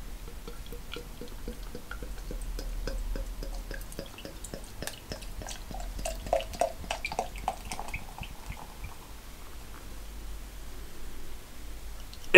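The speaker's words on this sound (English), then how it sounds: "I only want to be vicious on the pour because I want to get that carbonation into these glasses" Tegernseer 1806 Max I Joseph beer poured vigorously into glasses, a run of close gurgling glugs and splashes followed by soft fizzing as the carbonation settles, with no talking.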